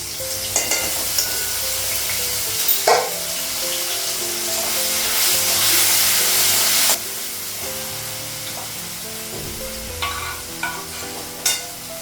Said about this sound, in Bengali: ডালটা নাড়াচ্ছি